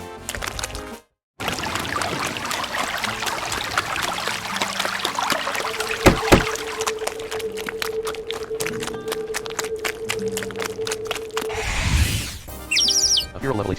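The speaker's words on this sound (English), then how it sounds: "A feral level 18 hydro bird attacked you." A feral level 18 hydro bird calling in the Manamon video game, with chirpy, tweeting game sounds over a rushing, water-like background, a short dropout early, a long held tone in the middle and a burst of bright chirps near the end.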